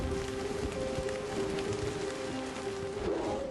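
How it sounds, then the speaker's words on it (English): Heavy rain pours steadily over Hawaii's mountain slopes, a dense, continuous hiss with no voices, holding an even level throughout. "That creates rain on a monumental scale."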